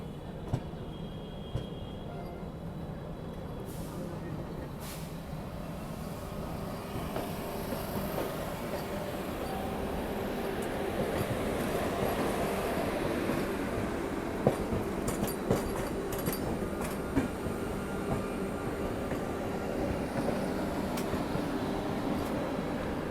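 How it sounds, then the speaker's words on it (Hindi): Vande Bharat Express on the Varanasi–New Delhi route rumbling past as a steady, moderately loud rail roar with faint wheel clatter and a few sharp clicks, heard without speech. "तो ये है वाराणसी नई Delhi king of priority Vande Bharat express"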